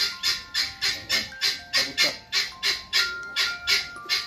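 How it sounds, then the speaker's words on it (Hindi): A peacock gives a rapid series of about ten loud, harsh squawking calls in steady rhythm, close by, in an outdoor village setting, with no talk. "मोर"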